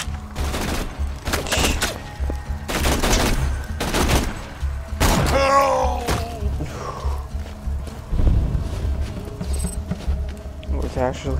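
Gunfire in the video game Borderlands 2 comes in several bursts of sharp, loud shots spaced across the scene, with game sounds and a speaking voice between them.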